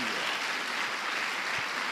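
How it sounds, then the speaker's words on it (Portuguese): A church congregation applauds together, giving a steady, dense wash of clapping that stays even throughout and has no speech over it. "Dê uma salva de palmas ao Senhor"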